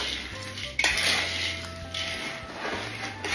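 Peanuts being stirred in a pan of frying oil for a roadside snack business: continuous metallic scraping and clinks of the utensil against the pan over a low sizzle, with a sharp knock near the start and no talk.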